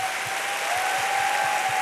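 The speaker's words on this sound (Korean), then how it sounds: "우리 스태프들에게 한번 감사의 박수 한번." An audience at a summer camp worship gathering applauds the staff, a dense, steady patter of many hands clapping together for a couple of seconds, with no talking over it.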